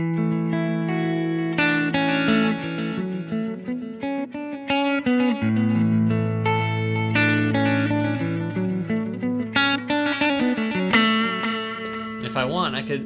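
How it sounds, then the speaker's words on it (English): Electric guitar played through an amp recorded silently with a Two Notes Torpedo Reload II, carrying a light studio delay from the DAW; sustained chords and single notes ring continuously with soft repeats trailing behind, loud and close. "So now you can hear there's a little bit of delay on my tone,"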